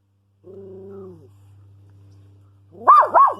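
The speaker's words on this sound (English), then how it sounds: "Complaints about dogs barking." A dog gives a single faint whine or bark, then a pause, then two sharp, fairly close yips in quick succession over a low steady hum.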